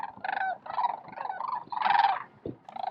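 A flock of sandhill cranes calls in loud, rolling bugles at Jasper-Pulaski, groups overlapping in steady waves with a brief dip near the end.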